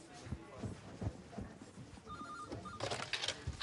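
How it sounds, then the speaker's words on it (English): An office telephone rings with a short, faint electronic trill, heard behind low room noise and shuffling in a social services office. "Could you answer the phone then, please?"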